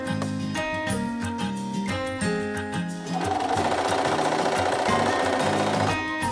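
A sewing machine running a rolled hem along the edge of a ruffle sleeve, a loud, close, rapid mechanical whir and stitching rattle continuing throughout with a slight change in pitch midway.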